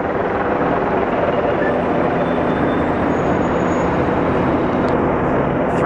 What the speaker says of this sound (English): Three helicopters I can see just right now.